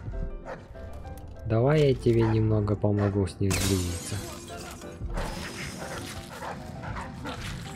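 Dog barks in the Dishonored 2 video game, several loud yelping barks in a quick burst mixed with game sound effects, while someone talks over them.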